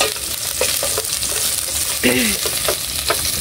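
Onions fry for chicken sinampalukan, a loud, close, steady sizzle with quick scraping stirs of a spatula in the pan and a brief clatter midway.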